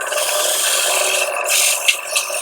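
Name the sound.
sanding inside of wooden box with sandpaper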